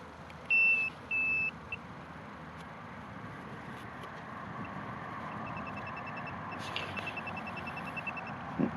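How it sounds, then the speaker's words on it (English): A metal detector sweeping a farm field gives two short high-pitched beeps early on, then fainter scattered tones over a steady, low background hiss, with no talking. "I'm just picking out the high-pitched tones in amongst all the iron."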